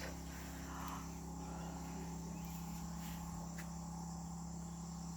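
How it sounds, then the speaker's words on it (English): A steady, continuous buzzing drone of cicadas in a rainforest fills the background, faint and unbroken, with a low hum underneath. "Cicadas."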